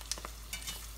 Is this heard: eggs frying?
yes